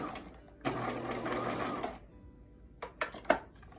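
A sewing machine straight-stitches close to the edge of a cloth surgical mask in one steady burst of rapid whirring lasting over a second, then stops, followed by a few short clicks and handling knocks.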